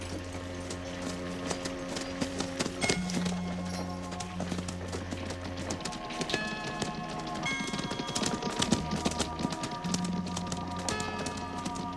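Horse hooves clip-clop in a Western film scene, a quick run of clear, close hoofbeats layered with background music and faint creaks, steady throughout.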